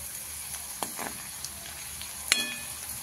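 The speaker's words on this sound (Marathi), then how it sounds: "आता आपला कांदा जरा लालसर व्हायला लागलेला आहे" Chopped onions frying in a pan as they turn reddish for a Marathi zunka, giving a soft, steady sizzle and hiss with a few light clinks and pops, fairly faint and close.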